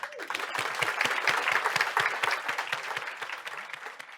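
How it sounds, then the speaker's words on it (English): A conference audience claps to welcome a presenter to the stage, a warm burst of applause that swells in the middle and gradually thins toward the end, with no speech over it. "would you give a big round of applause and welcome Nathaniel to the stage?"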